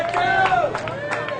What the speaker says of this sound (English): Crowd making some noise now.